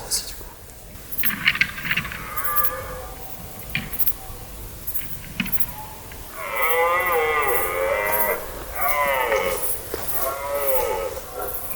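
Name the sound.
red deer stag belling during the rut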